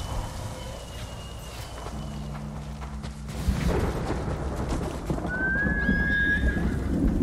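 A horse in the Ghost of Tsushima video game whinnies with a rising, high-pitched neigh near the end, after steady clip-clopping hooves and a low rumble, with no voices.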